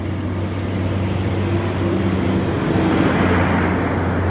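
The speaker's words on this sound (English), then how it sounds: "oh, there's a plane up there too" A steady, distant drone of an airplane passing overhead at Carson Hot Springs resort, blended with broad outdoor rumble and faint traffic-like noise, with no talking.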